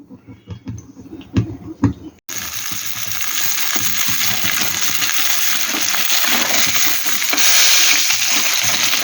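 Bhetki fish fries in a pan, a loud, dense sizzle that starts abruptly after a few quieter clatters and keeps going steadily to the end, louder near the close.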